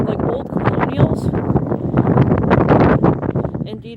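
Gusty wind blowing outdoors in Jersey among old colonial-style houses, a loud, steady rush buffeting the microphone under continuous talking.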